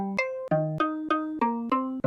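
Modular synth sampler triggered by a steady clock through a quantizer, playing seven evenly spaced plucked tones that step up and down in pitch, each sharply attacked and sustained, clean and moderately quiet.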